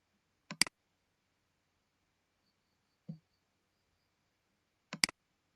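Computer mouse clicks while working in SPSS statistics software, three quiet isolated clicks (two sharp double clicks and a softer one) separated by silence.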